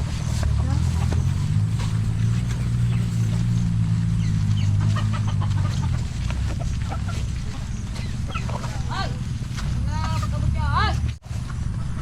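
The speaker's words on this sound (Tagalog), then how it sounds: "Ayan nyo guys yung pato." Ducks on a rural dragon fruit farm quack and chatter in short bursts over a steady low engine-like rumble, with some voices talking in the background.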